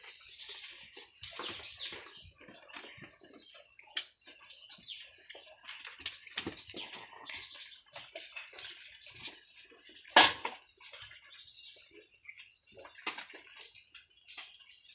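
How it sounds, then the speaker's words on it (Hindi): Goats are bathed with cold water in a farmyard, heard as intermittent splashes and pours at close range with scattered drips, one sharp clatter and faint background sounds between the bursts. "थंड थंड पाण्याने आंघोळ घातल्यावर बरं वाटत असेल त्यांना"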